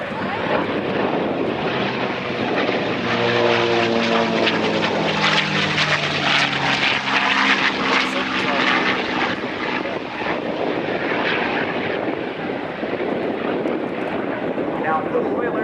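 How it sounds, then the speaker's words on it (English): A North American AT-6 Harvard propeller aircraft at an outdoor airshow, its radial engine giving a loud, steady drone that swells and shifts in pitch as the plane passes, with a public-address voice talking over it. "the AT-6. Well, the Royal Air Force and the Royal Canadian Air Force called it the Harvard."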